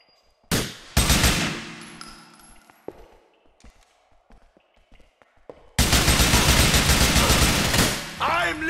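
In the crime shooter GTA IV, a sharp burst of gunfire rings out, then quiet stray shots and movement follow before a long, loud volley of rapid fire, with a voice briefly heard at the end.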